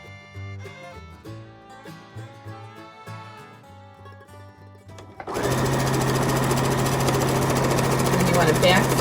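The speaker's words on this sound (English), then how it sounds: "You want to back stitch that so your stitching doesn't come out of place" A sewing machine starts midway and stitches in one steady, loud, fast whirring run, locking the seam with a short back stitch; musical tones play before it begins.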